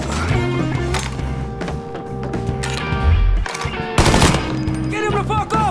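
Heavy gunfire in Mafia III combat, rapid bursts of automatic shots and loud blasts rattling close by amid constant battle noise, with voices shouting between volleys.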